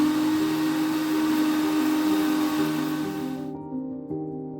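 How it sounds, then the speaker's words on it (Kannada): A mixer grinder whirs loudly and steadily while grinding cumin to a fine powder in a small jar, the motor hum holding for a few seconds before winding down near the end. "ಇದನ್ನು ಎರಡನ್ನೂ ಒಟ್ಟಿಗೆ ನಾನು ಚಿಕ್ಕ ಜಾರ್ನಲ್ಲಿ ನಾನು ಫೈನ್ ಪೌಡ್ರ್ ಮಾಡ್ಕೊಳ್ತಾ ಇದ್ದೀನಿ"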